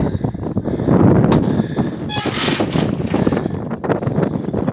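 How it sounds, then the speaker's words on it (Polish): Strong gusty wind at a lighthouse on the Baltic coast, loud buffeting roar hitting the microphone in surges with rattles and knocks, no talking. "Strasznie tu wieje."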